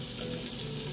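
Carrots sauteing in a pan, a steady broadband sizzle with a watery hiss running evenly throughout, close and fairly quiet, with no voice over it.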